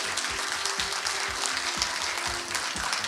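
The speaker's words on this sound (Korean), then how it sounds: "박수 부탁드립니다" An audience at a ceremony opening an academic festival and welcoming a new board chair applauds warmly, a dense even wash of clapping over a soft low-pitched background hum.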